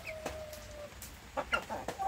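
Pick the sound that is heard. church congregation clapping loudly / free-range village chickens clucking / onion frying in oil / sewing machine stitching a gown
free-range village chickens clucking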